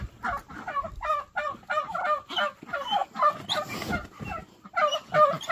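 Backyard chickens cluck and squawk in a steady run of calls during morning chores, close and fairly loud, a busy flock chattering with brief pauses and no talk over them.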